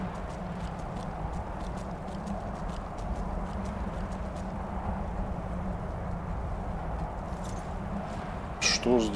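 Horse hooves clip-clop steadily in the video game Skyrim, an even walking rhythm over a low ambient hum, while someone talks over it and a brief louder sound comes near the end.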